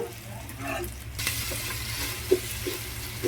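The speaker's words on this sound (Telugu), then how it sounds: "చక్కగా పచ్చి వాసన పోయేంత వరకు అయితే వేయించుకుందామండి అల్లం వెల్లుల్లి పేస్ట్" Ginger garlic paste sizzles and fries in a hot pan for tomato pulao, a steady broadband hiss with a sharper burst partway through and a few faint taps of a spoon, no talking.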